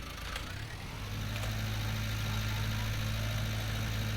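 Underpowered tractor engine in Farming Simulator 19 holds a steady, moderately loud idling drone with a low hum that swells slightly after the first second and then stays even, with no talking.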